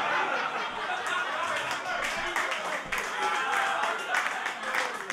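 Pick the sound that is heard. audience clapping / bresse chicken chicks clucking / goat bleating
audience clapping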